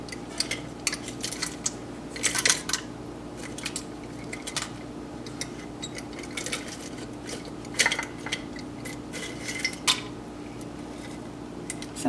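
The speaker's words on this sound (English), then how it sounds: "I'll dump out a little bit of everything and put that in my pot here." Dried thyme, rosemary and mulling spices tumbling into a simmer pot, a steady light rattling and clinking of small pieces against the pot over a constant low hum, with no talking.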